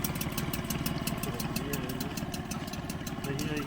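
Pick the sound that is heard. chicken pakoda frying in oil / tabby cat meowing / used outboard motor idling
used outboard motor idling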